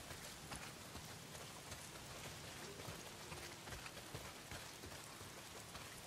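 Heavy rain pours down in the video game Days Gone, a dense, even patter on surfaces that holds steady throughout at a fairly low, distant level, with no voices.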